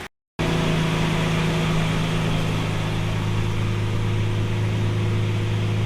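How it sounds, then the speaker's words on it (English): A truck engine with 220,000 miles idles high and steady indoors, a constant mechanical drone with low humming tones that starts abruptly after a brief silence and holds at an even level throughout. "Got a bit of a high idle."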